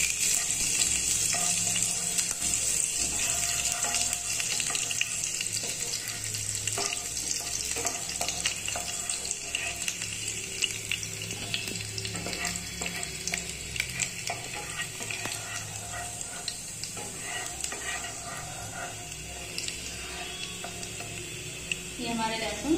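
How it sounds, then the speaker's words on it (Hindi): Finely chopped garlic sizzles steadily in oil in a pan, a dense continuous frying hiss with occasional stirring scrapes, close and without pause. "3 से 4 कली लहसुन की जो बारीक काट ली थी हमने, डालेंगे। थोड़ा सा इसे सॉटे कर लेंगे।"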